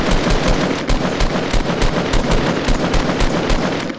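Guns fire in Fortnite as a rapid, evenly spaced string of loud, close shots, an automatic burst that keeps going without pause.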